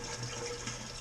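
Grapefruit flavoring liquid being poured into homebrewed wheat beer, a steady, soft continuous trickle and splash heard alone.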